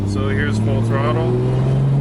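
A 2JZ-swapped Nissan S13 accelerates at full throttle, its steady engine drone rising slowly in pitch and holding loud and close throughout, with a person talking over it.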